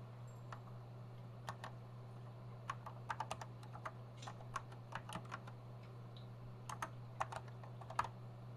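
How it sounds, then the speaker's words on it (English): Keys clacking on an old Sanyo MBC 555 computer keyboard with a slightly wonky feel, sparse irregular taps in small clusters, close but soft over a steady electrical hum. "Oh, the keyboard's a little wonky."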